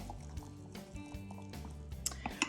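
A spoon stirs bubbly sourdough starter discard in a jar, making soft wet squishes and sticky pops with light knocks against the glass, close and quiet.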